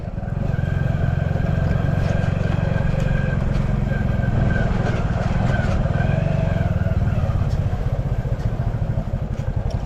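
A motorcycle engine runs steadily at close range throughout, a loud rhythmic putter with rattling clatter as it rides along.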